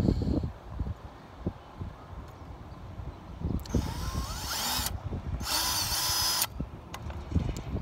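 Drilling a rivet on a diecast NASCAR model car, with two short bursts of a small power drill whining at close range among quiet handling noises and rustling.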